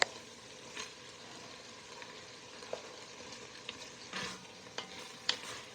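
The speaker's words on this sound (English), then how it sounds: "Every once in a while, I'll just give it a little chop with my meat chopper here." Ground hamburger meat frying in a pan for chili, a steady low sizzle with scattered scraping and clacking taps from a meat chopper breaking it up, close and fairly quiet.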